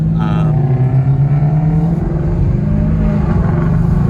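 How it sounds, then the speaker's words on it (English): A loud cammed engine in a Stage 3 Roush Mustang or a big-turbo Evo 9 runs at close range with a steady, rough, throbbing low rumble that fills the whole stretch. "talking about how loud his cams are. Still loud."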